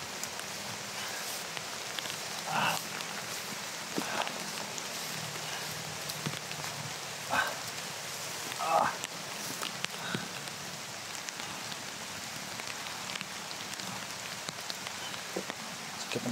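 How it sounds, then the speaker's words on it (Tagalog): Steady rain falls continuously for a long stretch, a dense hiss of drops on surfaces with a few louder pattering moments and no talking. "Sa ulan."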